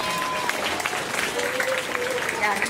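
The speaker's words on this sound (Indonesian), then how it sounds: "Tepuk tangan untuk kita semuanya." Students clapping together at a school flag ceremony marking Indonesian Independence Day, a dense, lively burst of applause from a large crowd, with a voice speaking over it.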